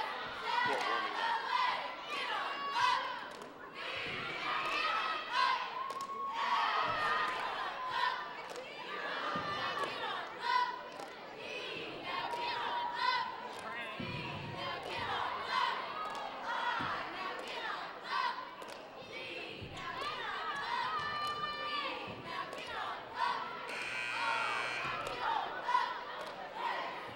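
A crowd at a high school varsity boys basketball game on court warming night cheers and chatters steadily in a gym, with shouts, whistles and rising roars during a halftime break.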